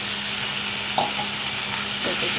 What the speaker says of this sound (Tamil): நல்லா வதக்கி விட்டுருங்க அடுப்பை சிம்மில் வச்சுக்கோங்க